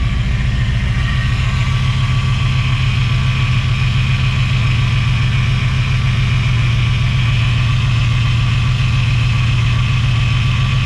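A Chevrolet Caprice V8 idles steadily and loudly up close with a low, even rumble and a faint ticking pulse throughout, alone without voices.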